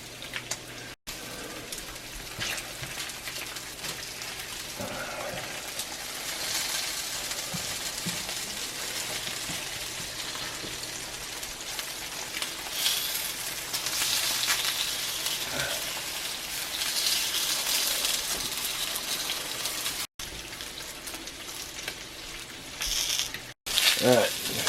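Sausage and pre-formed hash brown patties frying in a cast iron pan, a steady crackling sizzle that sounds rain-like, continuous for a long stretch with brief clicks and bursts of louder spattering.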